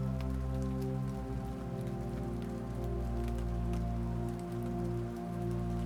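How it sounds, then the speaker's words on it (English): Soft rain falls steadily in a forest of evergreen trees at night, an even patter of drops over a low continuous hum. "And tonight, soft rain is falling."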